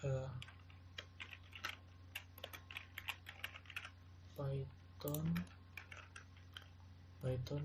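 Rapid keyboard typing at a terminal for Python work, a steady stream of close, crisp key clicks broken by brief spoken phrases.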